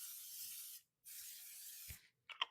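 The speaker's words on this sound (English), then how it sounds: "We're going to spray again down in between." Cooking spray hisses onto a hot waffle maker during a sourdough waffle brunch: two close, steady bursts of under a second each, followed by a few small clicks.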